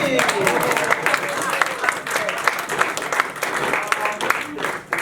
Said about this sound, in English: Yeah, a round of applause for Jimmy